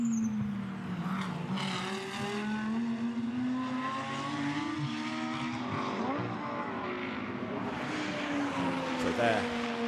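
GT2 race cars accelerating at Misano circuit, engines rising and shifting in pitch as they power through, heard at moderate distance under a race commentator's voice.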